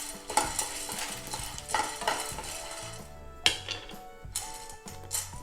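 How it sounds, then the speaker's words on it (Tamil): A cup of roasted gram (pottukadalai) is dry-roasted in a pan, with a spoon repeatedly stirring and scraping the dry lentils in close, rhythmic bursts of rattling and clinking. "முதல்ல இந்த ஒரு கப் அளவுக்கு பொட்டுக்கடலையை நான் ஒரு பேனில் சேர்த்துடுறேன்"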